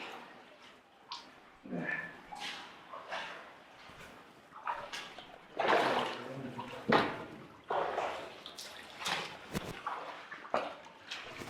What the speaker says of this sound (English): I can hear water that way.